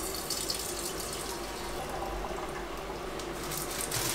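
Boiled water being poured from one container into another, a steady close splashing stream of liquid that runs continuously at low volume.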